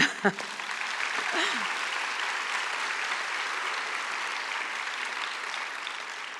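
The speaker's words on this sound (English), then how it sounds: "I think we applaud them." A large audience at a library conference closing ceremony breaks into sustained applause for award winners, a dense, even wash of clapping that holds steady throughout, briefly preceded by a voice at the start.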